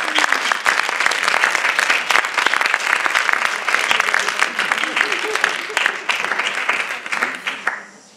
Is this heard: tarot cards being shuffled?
no